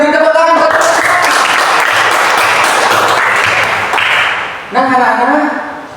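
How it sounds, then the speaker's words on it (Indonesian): Children in a classroom clap in a loud, dense burst of applause for quiz winners, with a voice speaking briefly before and after. "Beri tepuk tangan."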